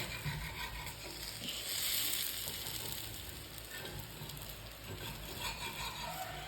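Dosa batter frying in a hot pan, giving a steady close sizzle that swells briefly, with no voices.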